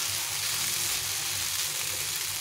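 Onions and tomatoes fry in a pan for pasta, giving off a continuous soft sizzle with faint stirring, with no talking.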